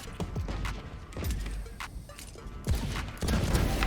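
Rapid bursts of gunfire from a golden pistol in a shooter video game, with loud repeated shots across the clip and a heavier volley near the end.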